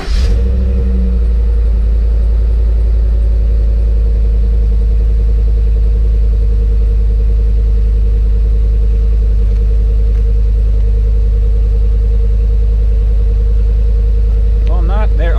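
Ford F150 pickup truck engine idling after a cold start on a roughly 50-degree day, a steady loud low rumble with a constant drone throughout and brief faint voice-like sounds near the end.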